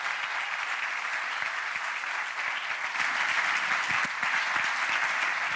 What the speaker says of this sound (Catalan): Un fort aplaudiment per ell, també.